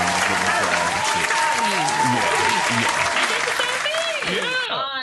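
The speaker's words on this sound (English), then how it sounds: "Where's the clapping sounds? Give him an applause." Applause sound effect played during a casual podcast conversation, a steady wash of clapping with a crowd-like rush that carries on for about five seconds, with voices talking over it.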